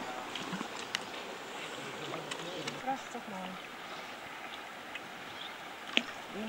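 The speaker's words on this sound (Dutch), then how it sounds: "Krijg je weer een stroomversnelling" Rushing river water on a boat trip through rapids in Thailand, a steady broadband wash with occasional splashes and knocks, close by and continuous, with faint voices in the background.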